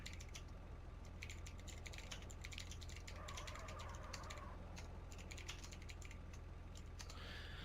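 Rapid computer keyboard typing, steady and continuous, with a faint low hum underneath and no voices.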